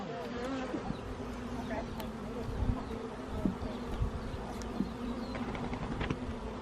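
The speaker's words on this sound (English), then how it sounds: "the cleanup bees. They're the ones doing the work." Honey bees buzzing around an open beehive nuc during an inspection, a dense steady drone of many insects close by with occasional clicks and knocks of hive handling, people talking quietly beneath it.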